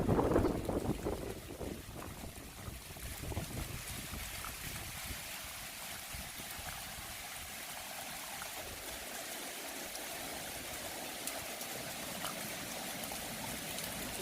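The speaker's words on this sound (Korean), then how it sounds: "이번에는 물소리 한번 들어보실까요?" Water pours down channels on both sides of a museum building in Jeju, a steady broad rushing wash that stays even and fairly near throughout, with no talk over it.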